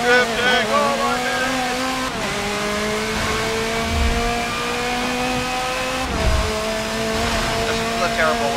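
Car drifting in the Forza racing game on PC, engine tone climbing and shifting through gears with loud steady revving and brief tire squeal, a voice talking over it.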